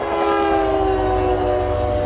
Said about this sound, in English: This is what it sounds like inside the boxcar.